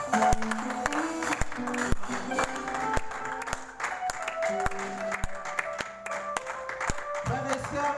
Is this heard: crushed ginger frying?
no